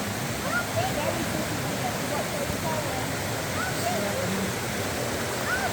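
A river in Talybont, Wales, rushes over stones in a steady, close, continuous wash of water that never lets up, with faint voices murmuring somewhere beneath it.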